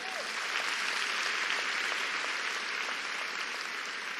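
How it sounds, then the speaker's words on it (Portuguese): An audience at a talk on marriage applauds warmly, a continuous, even roar of clapping held at a steady level from start to finish. "Vamos aplaudir a Mulher Elástico?"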